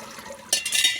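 Cold water is poured onto freshly drained homemade pasta: a short, splashy burst of liquid begins halfway through after a quiet moment, with no talking.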